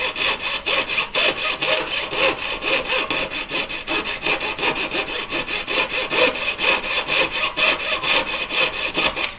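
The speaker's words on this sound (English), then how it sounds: "and then carefully saw through it" A fine-toothed jeweller's saw, its blade waxed with beeswax, cuts through a claw of a double-claw setting around a cushion-cut stone, giving a fast, steady, close rasping rhythm of even back-and-forth strokes.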